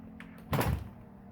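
A house door opens onto a small enclosed porch on a fixer-upper in Middle Tennessee, giving one short thud-like swing and clunk in a quiet room.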